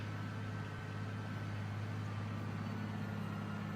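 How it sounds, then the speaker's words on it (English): Steady low droning tractor engine from Farming Simulator 19, a constant hum holding an even pitch throughout while the tractor works a field, fairly faint with no talk over it. "You hear the tractor? I love the sound of the tractor."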